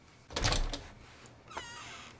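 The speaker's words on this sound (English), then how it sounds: "Door's open." A door opens in a Lego brickfilm scene, a short loud creaking swoosh followed by a fainter scraping slide, heard alone without talk.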